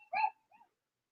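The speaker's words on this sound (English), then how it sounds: "They got dogs all around here" Dog in the background giving one short yelp followed by a fainter whimpering bark, quiet and alone in an otherwise silent moment.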